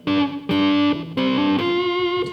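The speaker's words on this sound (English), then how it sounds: "I'm playing a Fender Eric Johnson Strat." A Fender Eric Johnson Strat electric guitar on the middle and neck pickups, played through a PRS Custom 50 lead channel with slapback delay, plays a short distorted riff of four punchy chords and notes.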